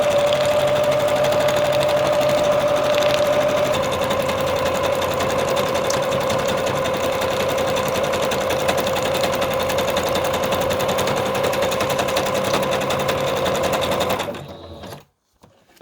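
A sewing machine stitches fabric in one steady, loud, continuous whir for about fourteen seconds before stopping abruptly, with no voices over it.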